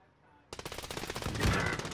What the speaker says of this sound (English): the other guy is shooting, running